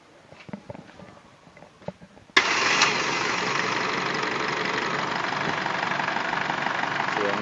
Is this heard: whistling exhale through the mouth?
no